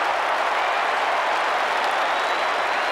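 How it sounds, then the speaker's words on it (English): Dense, sustained applause and crowd noise fill a football ground as Essendon supporters and the rest of the stands clap for Geelong's Gary Ablett at the 1989 VFL Preliminary Final, a loud continuous roar with no commentary over it. "even the Essendon supporters are giving begrudging applause now"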